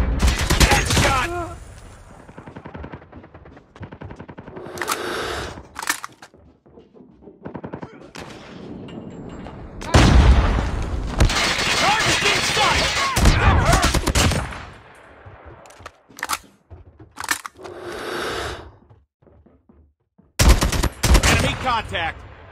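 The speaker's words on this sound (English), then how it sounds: "Target's in sight. I got a shot! Headshot!" Bursts of gunfire from the video game Call of Duty in a search-and-rescue mission, with loud sustained volleys separated by quieter stretches and a few sharp short bursts near the end, with some voices mixed in.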